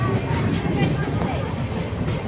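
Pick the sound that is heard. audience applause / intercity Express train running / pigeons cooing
intercity Express train running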